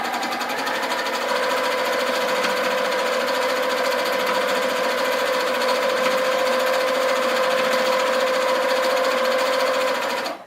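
A Handi Quilter quilting machine stitching, a steady rapid mechanical whir and chatter with a constant hum that runs without a break before stopping abruptly.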